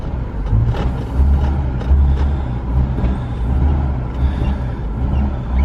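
A 1968 BMW 1602 on its first drive in over ten years, a steady loud engine and road rumble heard from inside the car with constant low drone throughout.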